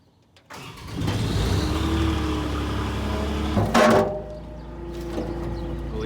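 A diesel skid loader engine cranks and catches in cold weather, settling into a loud, rough idle with a sharp burst of revving partway through, then running on steadily, with no talk.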